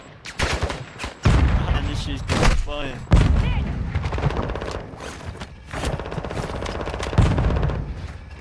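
Weapons fire in Call of Duty DMZ as loud, dense automatic bursts and heavy shots that keep coming almost without a break. Voices can be heard faintly in the mix.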